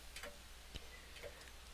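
A clock ticking sound effect from an Android relaxation app plays in slow, evenly spaced clicks, close and quiet against a faint steady hum.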